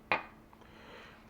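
A spoon strikes the side of a crockpot while stirring potato soup, giving one sharp metallic clink followed by soft, faint scraping in a quiet kitchen.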